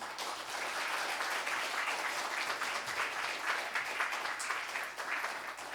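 A church congregation at a New Year revival meeting applauds to welcome the pastor, sustained, even clapping from a large crowd filling the room at moderate loudness.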